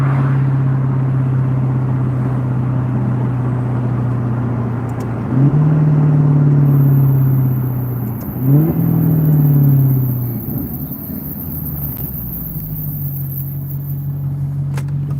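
Car engine accelerating from about 2,000 RPM, a loud steady low rumble that swells and shifts pitch through several gear-like changes before settling, heard alone without talk.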